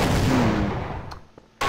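Explosion in the Half-Life video game: a heavy, booming blast that rumbles and fades over about a second, followed by a couple of sharp cracks and a final abrupt bang.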